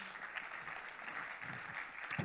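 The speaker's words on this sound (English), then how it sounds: "Okay, well, round of applause." Audience applause follows a conference talk, a faint, steady patter of clapping from a crowd with a few louder claps.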